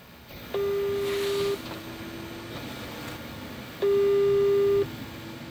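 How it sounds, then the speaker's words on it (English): A telephone call rings out with two long, steady electronic ring tones spaced a few seconds apart, moderately loud over a quiet room background with no talk. "let's make that phone call"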